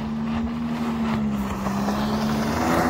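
A Solar-470 water-jet RIB boat drives across snow, its engine holding a steady, moderately distant whine with wind noise and rough scraping texture underneath, no voices.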